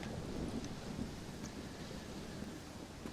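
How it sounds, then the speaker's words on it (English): A video-game thunderstorm rumbles on as a dense, steady wash of rain and low thunder, loud and continuous throughout with no gaps. "Well, it's just the storm, John."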